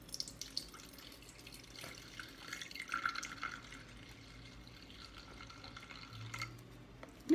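Water poured from a bottle into a container while making a handcrafted black soap cleanser, a quiet trickling and dripping stream that swells briefly mid-pour against a soft background.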